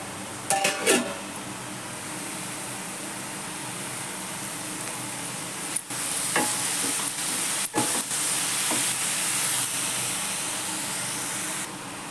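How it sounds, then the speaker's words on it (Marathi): Water heating toward a boil in a pot for making steamed modak, a steady soft hiss with a few sharp clicks and knocks early on and midway, fairly close and continuous throughout. "तर ह्या पाण्याला उकळी येऊ देऊ आपण"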